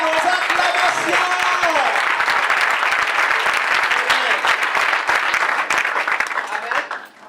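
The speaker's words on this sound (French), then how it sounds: "J'aime qu'on acclame le Saint-Esprit." A congregation at a youth conference in Ziniaré keeps up a loud, continuous wave of clapping with voices mixed in, then the applause fades sharply in the final moment.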